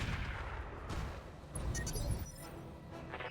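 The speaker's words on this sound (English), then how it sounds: "we're going to continue dropping artillery on the Warhammer 2C" Artillery shells pounding a Warhammer 2C mech in the RogueTech BattleTech video game, a dense rumble of low booming impacts with sharper bursts around the middle, sustained and fairly loud with no talk.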